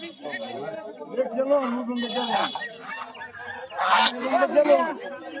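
Ducks or geese honk and quack in a busy market, their calls overlapping steady chatter from people talking nearby.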